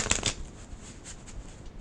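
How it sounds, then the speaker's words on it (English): Crisp riffling of playing cards being shuffled, a quick burst at the start followed by softer flicks and taps, close and quiet. "One more shuffle, guys."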